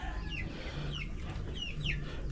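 Native chickens cluck inside a backyard coop with no one talking, giving repeated short calls over a steady low hum of farm background.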